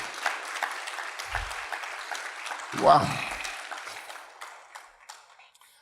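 Congregation applauding during a church worship service, sustained clapping from many people at moderate distance with a brief voiced exclamation near the middle.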